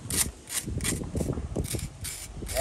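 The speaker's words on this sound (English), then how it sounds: "Scrape them off." A steel tool scrapes excess fresh mortar from the joints of a brick gable wall during repointing, giving repeated rhythmic rasping strokes, close and fairly loud, with no talking.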